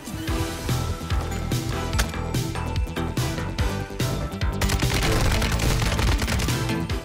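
An RPK light machine gun fires in Warzone 2 gameplay, loud sustained bursts of rapid shots packed densely over a busy background with no pauses.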